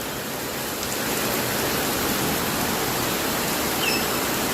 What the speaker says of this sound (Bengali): দেখেন কিভাবে বৃষ্টি হচ্ছে।